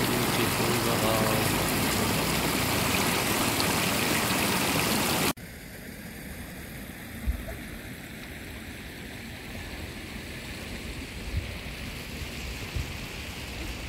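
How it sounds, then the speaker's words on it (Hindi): A stream rushes noisily through the Baghaow valley, a loud steady roar of water that suddenly drops to a softer, more distant wash with occasional low thumps. "बगाव का एक खूबसूरत नाला शोर मचा रहा है।"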